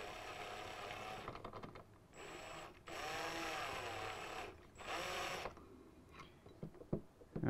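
A drill drives screws in with several loud whirring bursts, each lasting a second or two, with short quiet gaps between them and a few clicks at the end.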